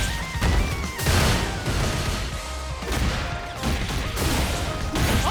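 Street Fighter 6 fighting-game combat with a close-range projectile attack landing, loud layered impacts and crashing bursts over continuous game noise and crowd roar.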